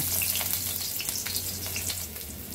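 Finely chopped onion hits hot oil already blackened dried red chillies for a jute-leaf greens dish, producing a continuous close sizzle with scattered pops and crackles throughout.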